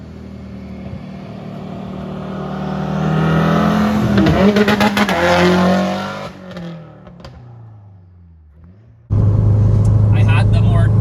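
A Stage 2+ full-bolt-on Subaru STI with launch control, engine roaring loud and close as it builds revs through a flat-foot upshift, then easing off before a sudden loud idle or rev burst returns.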